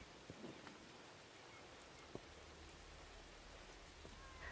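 Steady rain falls in the Book of Travels video game, a dense, even hiss with a few faint drop taps and soft low rumble, continuous and unbroken throughout.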